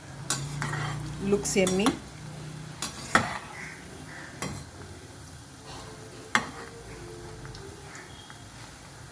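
Cauliflower 65 fries in a pan with a low sizzle while a utensil clinks and scrapes to turn the pieces, giving a few sharp metallic taps amid the steady frying. A voice speaks briefly.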